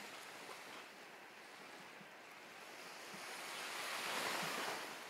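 Ocean waves wash onto a beach in a continuous broad rush of surf, with wind noise mixed in, swelling gently louder toward the end with no voices.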